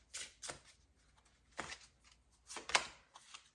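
Tarot cards being handled and drawn from a deck, with a few soft papery shuffles and flicks in separate bursts and quiet gaps between them, close and faint.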